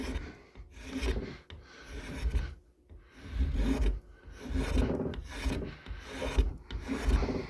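A knife carves a wooden spoon, shaving the bowl with the blade held at a skew. Close, rhythmic rasping and scraping strokes repeat in quick bursts with short pauses between them, and no voices are heard.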